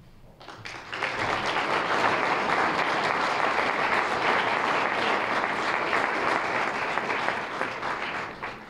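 An audience at a Chamber of Commerce awards gala breaks into applause, swelling quickly into sustained, dense clapping that holds steady before easing off at the end.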